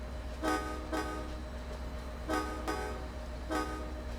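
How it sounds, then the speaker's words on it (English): A synthetic train horn in the game Train Sim World 2, on a Boston Sprinter locomotive, sounds in repeated pairs of short toots, tonal and evenly spaced, over a steady low engine hum. "I think it is the horn of this thing honking"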